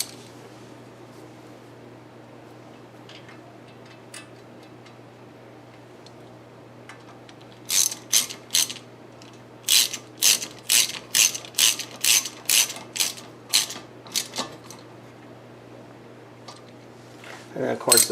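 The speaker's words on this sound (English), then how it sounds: "I'm actually just going to use a small hand tool to snug it down." A small hand ratchet snugs down a speed sensor during front suspension and brake work on a 2001 Lexus IS300, giving a run of crisp, evenly spaced clicks up close after a quiet stretch.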